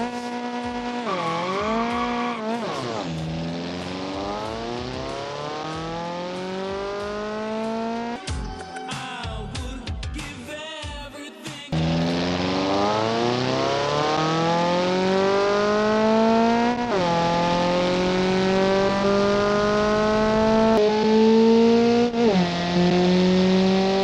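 A custom engine sound plays in the BeamNG driving game, a loud continuous rev that climbs and falls through gear changes. A brief stretch of skidding or tire squeal breaks in midway, then the engine pulls strongly again, with no talk.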